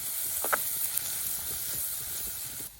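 Onions frying in a cooking pan, a steady hiss and sizzle running throughout at moderate level, with a few faint stirring clicks and no voices over it.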